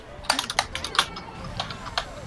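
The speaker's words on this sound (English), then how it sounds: "It's just like keyboard noises." Quick, close computer keyboard typing, a short run of crisp clicking keystrokes in an uneven rhythm, heard alone.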